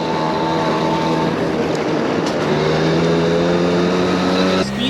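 A Honda Motocompo scooter's small engine runs steadily and loudly up close, a constant droning hum with a brief shift in tone near the end.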